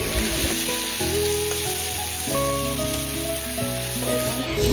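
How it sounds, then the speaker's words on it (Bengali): A paste of onion, ginger and garlic fries in a pan with a continuous close crackling sizzle, steady and loud, with some scraping as it is stirred and no speech. "মশলাগুলো হালকা ভাজা হয়ে গেছে"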